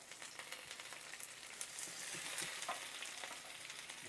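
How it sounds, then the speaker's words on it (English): Ramps sizzle steadily in hot garlic-infused oil in a pan, a quiet continuous frying crackle with occasional stirring scrapes and no talking. "We're just going to stir that around a little bit. And we're going to add our ramps here."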